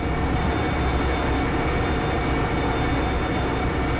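Derail Valley locomotive straining and laboring, a steady loud mechanical rumble with rattling and a constant hum, continuous throughout with no talk.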